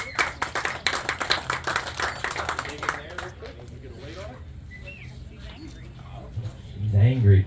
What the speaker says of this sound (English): Give Michelle a round of applause.